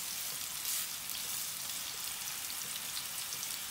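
Chicken breast medallions sauté in a hot pan, giving a steady, close, even sizzle with fine crackling spatters throughout and no voices.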